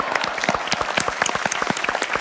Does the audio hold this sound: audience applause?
yes